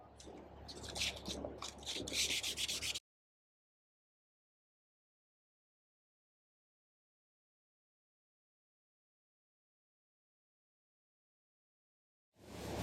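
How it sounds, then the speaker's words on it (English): Rapid rasping strokes of hand sanding a knife handle with 320-grit sandpaper for about three seconds, then silence until a faint return at the very end. "With the 320 grit sanding complete"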